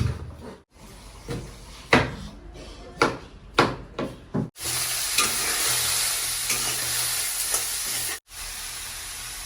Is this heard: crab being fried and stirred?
yes